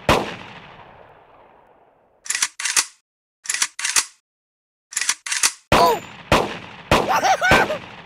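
Gunfire in the Kick The Buddy video game: a loud blast with a long decaying tail, then paired sharp bursts in quick succession, several clusters of close shots; a cartoonish voice cries out between the final shots.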